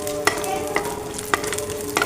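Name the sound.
pistachios and almonds roasting in ghee in a pan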